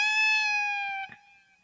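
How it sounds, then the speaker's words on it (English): A single electric guitar note from the solo is bent up and slowly released, its pitch gliding gradually downward in a clear, sustained, cat-like whine before a soft pick touch ends it. "we're going to bend that note up right after we bump the 2nd string. And then once we bend it up, we're going to slowly release it like this"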